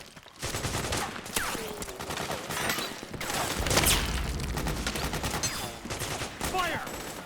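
Rapid gunfire in the video game Metal Gear Solid 4, with bursts of automatic fire and single shots cracking continuously amid shouted soldier voices and explosive booms, loud and chaotic throughout.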